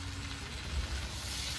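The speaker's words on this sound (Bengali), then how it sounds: "এবার এটা ভালো করে ভাজতে হবে।" Khichuri ingredients, including ginger paste and green chillies, fry in a hot pan as a steady, fairly loud sizzle with a low crackling rumble running continuously and evenly throughout.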